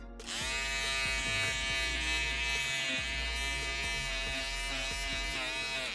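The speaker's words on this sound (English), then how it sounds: "I'm shaving a puppet." An electric shaver buzzes continuously as it shaves a puppet in a workshop, a steady close-up tonal drone with slight changes in pitch and texture as it presses against the material.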